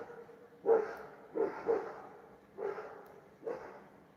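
A dog barks indoors, giving four separate moderately loud barks at uneven intervals, with no talk.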